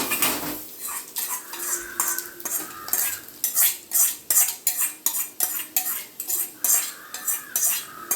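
Metal spoon clinks and scrapes against a bowl of curd rice in a steady, repeated rhythm while it is stirred and mixed, close and fairly loud, with no talking.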